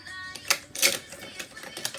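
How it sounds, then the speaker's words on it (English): Fingers tap on a keyboard in short, quick bursts of clicks, with a few sharper, louder keystrokes standing out against faint background noise. "You're having a Patty moment with your typing, Marcy."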